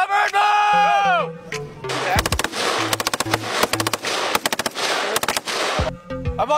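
Rapid bursts of automatic gunfire during a Philippine-US Balikatan military exercise, loud and close with sharp repeated cracks, mixed with shouted commands and other voices.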